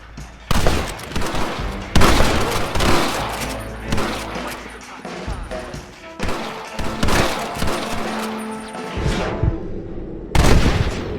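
Loud, dense gunfire from a Red Dead Redemption shootout in West Elizabeth, played on Xbox Series X, with rapid overlapping shots and heavy booms that come in repeated volleys, pausing briefly between them.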